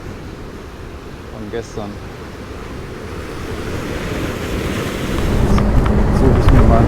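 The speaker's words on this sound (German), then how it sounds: "hier klatscht das Meer an die Mauer" Sea waves slap and wash against a wall close by on the Italian coast between Mortilla and Cetraro, the surge swelling louder toward the end, with wind rumble and a few spoken words.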